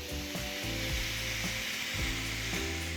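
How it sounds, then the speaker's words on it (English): Steak sizzles loudly and steadily on a hot electric grill, a constant crackling hiss with a few soft knocks underneath. "lay it paste side down on an angle and listen for that sizzle"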